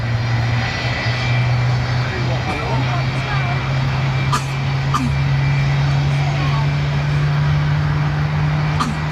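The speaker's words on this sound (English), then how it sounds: "listen to those RB211 engines" RB211 jet engines of an airliner at London Heathrow Airport drone loudly with a steady low hum and rising whine, nearby, with voices talking over the roar.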